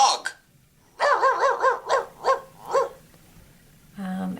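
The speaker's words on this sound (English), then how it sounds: "D-O-G, dog." A dog barks about six times in quick succession from an iPad learning app, clear, close, evenly spaced yaps, followed by a short electronic tone.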